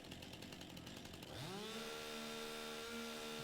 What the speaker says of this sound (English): So back on the chainsaw.